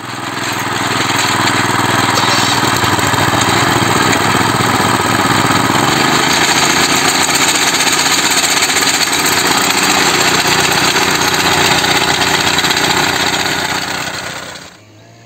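A small engine powering a homemade vibrating potato digger starts up and runs at a loud, steady, buzzing drone with a constant vibrating rattle, close by, before cutting off at the end.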